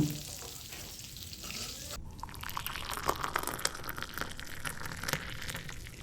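Potatoes fry in hot oil with a pinch of turmeric, a dense crackling sizzle throughout, briefly joined by a scraping stir, close and steady with no talk.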